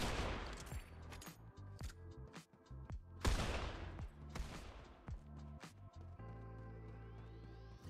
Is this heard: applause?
no